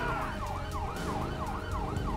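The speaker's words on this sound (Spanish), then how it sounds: "Voy a apagar la sirena." Police motorcycle siren in GTA 5, wailing continuously in rapid repeating up-and-down sweeps over a steady engine rumble, loud and close throughout.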